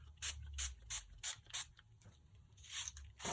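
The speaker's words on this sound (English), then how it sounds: "I'm just going to use some of this shimmer spray" Shimmer spray for a paper craft project, misted in a series of about eight quick, quiet hissing bursts in an uneven rhythm, with short pauses between them.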